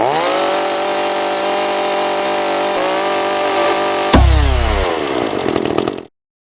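A chainsaw idles with a steady, buzzing drone. It revs sharply once, then the engine cuts off abruptly and leaves silence. Loud and close, with no talking.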